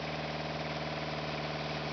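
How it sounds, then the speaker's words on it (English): A Yanmar diesel engine runs on an automated test stand at an assembly plant, giving a steady, loud, close idle with an even mid-low drone and constant mechanical vibration throughout, with no talk. "After assembly, the diesel engines are put through a test run by automatic operation systems."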